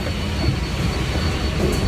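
A train at Shinjuku Station in Tokyo, heard as a steady, loud low rumble of rolling rail cars with faint wheel squeal and no talking, holding even for about two seconds.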